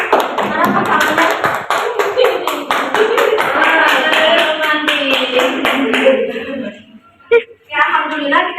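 Classroom applause as students clap for a correct answer in a mathematics lesson, a dense, steady burst of many hands lasting several seconds before tapering off, with a voice speaking over the end.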